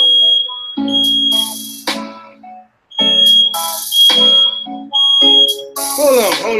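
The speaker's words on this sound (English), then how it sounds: "These smoke detectors going off." A household smoke detector shrills in repeated high piercing beeps, loud and close, with a voice talking in between and over the alarm.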